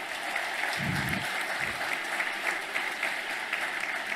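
A crowd at a Javier Milei speech at Fundación Libertad breaks into continuous applause, with a steady wash of clapping and a couple of low thumps near the start.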